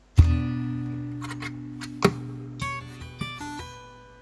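Two-hand percussive tapping on guitar played at a slower pace: a strong opening hit, then several spaced tapped and hammered notes ringing and decaying, with no voices.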